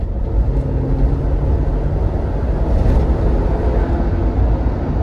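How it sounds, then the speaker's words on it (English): A 2022 Nissan Frontier Pro4X pickup with a 2-liter turbo engine accelerates hard, a loud, rough, rumbling engine drone with cabin and wind noise filling the clip, no talking. "Here we go, 2-liter turbo, foot down acceleration."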